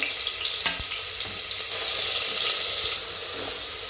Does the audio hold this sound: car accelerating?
no